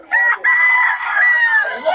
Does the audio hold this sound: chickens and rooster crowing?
yes